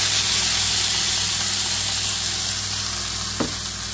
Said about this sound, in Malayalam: കടുക് വറുത്തിട്ടുണ്ട്, അതിലേക്ക് നമ്മൾ കിച്ചടിക്ക് വേണ്ടി അരച്ച കൂട്ട് ഒഴിച്ച് എടുക്കാം.